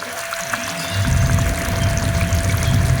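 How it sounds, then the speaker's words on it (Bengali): A spoonful of kewra water poured into egg biryani gravy in a clay pot, a steady close trickle and sizzle that swells after the first second and holds to the end. "1 চামচ কেওড়া জল দিয়ে দিচ্ছি।"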